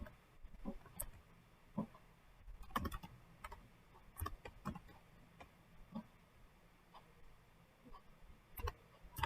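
Someone types a Java program on a computer keyboard, giving quiet, close key clicks in irregular bursts with short pauses between them.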